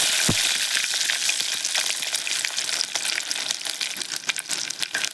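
Garlic frying in hot oil for a Tamil yam kuzhambu tempering, with a loud, dense, continuous crackling sizzle and popping close by and no voices.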